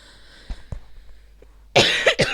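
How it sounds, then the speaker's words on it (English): A person coughs twice in quick succession, loud and close, after a stretch of quiet room tone with a couple of soft knocks. "Apologise, did not mean to cough in your"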